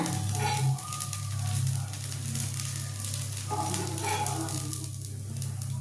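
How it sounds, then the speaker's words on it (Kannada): Moong dal dosa batter sizzling in oil on a hot pan, a steady, close frying hiss that holds throughout with a low rumble beneath and no talk. "ಈಗ ಒಂದೊಂದು ಅರ್ಧ ಸ್ಪೂನು ಎಣ್ಣೆ ಹಾಕಿ"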